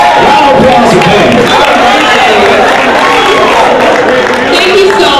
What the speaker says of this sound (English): Round of applause for Penn.